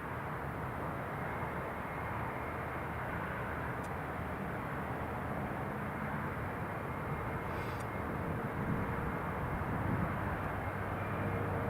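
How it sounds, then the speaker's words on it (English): An EasyJet Airbus A319 on final approach at Newcastle Airport, a steady broadband jet roar heard from a distance, holding level and continuous without any talk over it. "EasyJet A319 is on final approach now"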